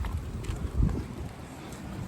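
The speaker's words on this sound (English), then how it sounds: "normally I have it covered up, but it's really windy" Low, blustery wind noise buffets the microphone throughout during Toyota Corolla headlight restoration, with a stronger gust rumbling briefly in the middle.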